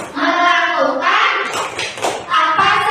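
Children in a classroom chant together and break into rhythmic claps, with sharp clap bursts and thumps between sung voices, all close and loud.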